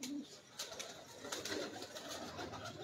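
Pigeons of a renowned wire-perching flock coo softly and steadily at a distance, their low calls blending with faint rustling and flutter throughout.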